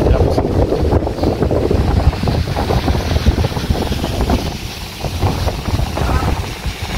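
Strong wind buffets the microphone on a seashore beside a boulevard, a constant rough rumble with gusty surges. Faint surf may sit underneath, and no talk is heard.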